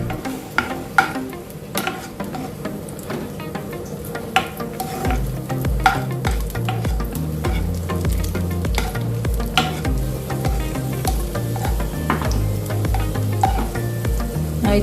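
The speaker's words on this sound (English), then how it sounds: "It's time to roast the raisins now." Raisins roast in a pan of hot oil while making a vegetable biryani, with a steady close sizzle and frequent scraping stirs throughout.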